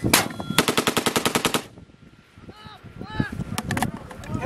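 An M249 SAW machine gun fires a rapid burst of about a dozen sharp, loud shots at a target on a range, followed by a few scattered distant shots, with voices talking in between.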